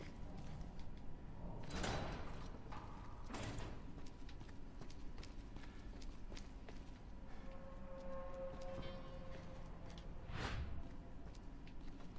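A door opens in the survival horror game Resident Evil Revelations 2, giving a few heavy thuds and slides against a low ambient background, with no talking.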